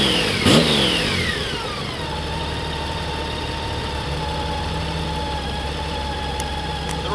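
A 2006 Honda Goldwing GL1800 trike creeps slowly in reverse, its engine holding a steady, close idle-like drone after a brief louder surge at the start, with no talk.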